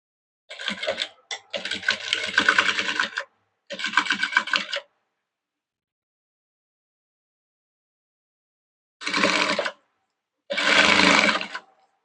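A sewing machine stitches a V-collar kurti in several short whirring bursts, one after another, separated by pauses of silence.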